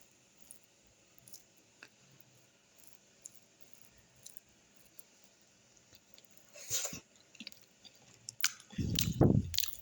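Close, quiet chewing and soft mouth sounds of someone eating hot khichuri rice in the morning, sparse at first and growing louder and busier toward the end.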